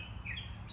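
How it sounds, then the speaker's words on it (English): Birds chirp outdoors nearby, steady high tweets running continuously over low background rumble for under a second. "Sorry about the birds."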